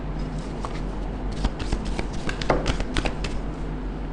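Close, brisk shuffling of a tarot deck: a run of quick riffling and tapping card sounds with soft slaps, with a quiet room behind it.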